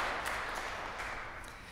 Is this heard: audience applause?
yes